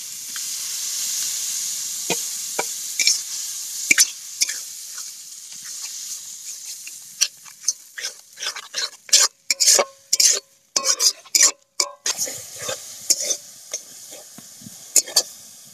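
Tomatoes drop into hot spiced oil and are stirred, giving a soft hiss that breaks into repeated bursts of loud sizzling and scraping spatula strokes.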